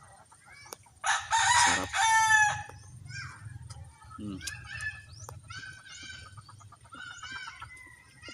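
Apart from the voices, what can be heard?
chickens in a garden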